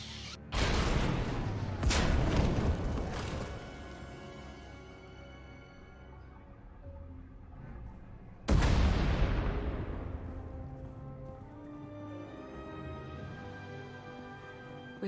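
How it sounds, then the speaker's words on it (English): Two sharp booming blasts ring out a few seconds apart, then a third heavy explosion, each followed by a long rumbling, echoing decay, explosions in Star Wars: The Old Republic. "We heard explosions."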